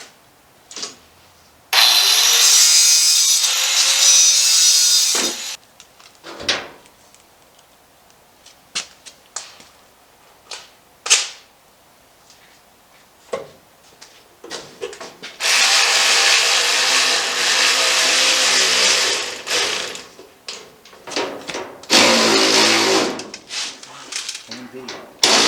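A diamond cut-off wheel slices through steel in a shop, heard as loud, harsh grinding bursts lasting several seconds, broken up by knocks, clanks and handling noises, with talking in between.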